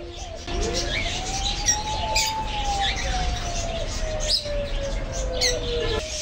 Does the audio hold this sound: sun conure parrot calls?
yes